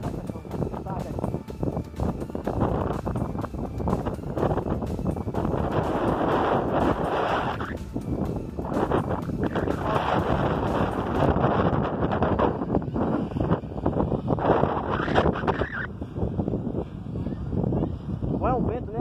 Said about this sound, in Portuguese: Aqui deve estar ventando muito aí para vocês